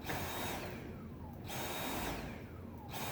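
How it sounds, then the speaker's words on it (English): Vacuum cleaner running steadily at moderate volume, with the whoosh of suction rising and falling in a slow rhythm as it is pushed back and forth. "Keep vacuuming."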